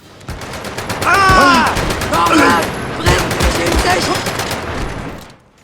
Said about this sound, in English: Medal of Honor offers very crisp gunplay with World War II weapons.